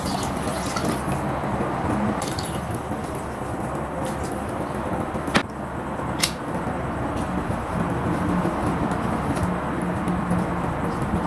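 Water and coconut milk are poured into a cooking pot in a steady, close rushing stream that runs the whole time, with a couple of faint clinks partway through.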